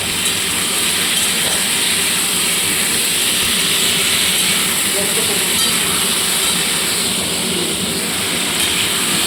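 Tomatoes drop into a pan of frying ridge gourd and potatoes, and a steady, loud sizzling hiss carries on evenly throughout.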